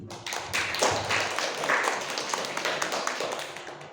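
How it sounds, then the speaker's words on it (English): An audience claps at the opening of an academic speaking mini seminar on English teaching, dense steady clapping with sharp taps throughout, fairly close and sustained. "let's give applause to everyone who attended today"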